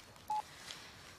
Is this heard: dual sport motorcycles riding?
no